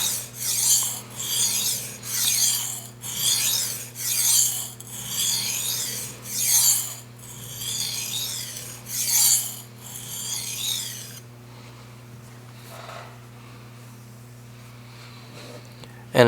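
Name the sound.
sharpening mammoth tusk kitchen knife on coarse whetstone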